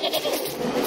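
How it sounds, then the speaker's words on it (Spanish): A goat bleats in the Plants vs Zombies Garden Warfare 2 video game, a short, fairly loud cry that wavers across under a second, alone with no talk. "Otra vez soy una cabra."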